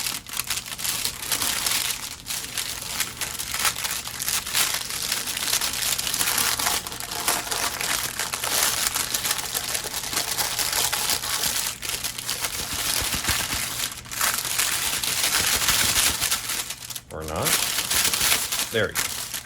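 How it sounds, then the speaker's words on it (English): A sourdough loaf peeled off baking paper, with sustained crinkling and crackling of paper up close, continuous and fairly loud, with a few sharper tearing crackles near the end. "I'm gonna try to get it off of the baking paper."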